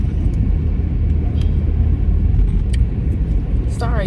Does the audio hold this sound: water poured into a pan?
no